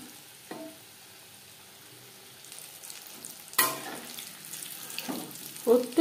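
Chicken pieces frying in hot oil over a medium flame, a quiet steady sizzle broken by sharper crackles and a few utensil clinks toward the end.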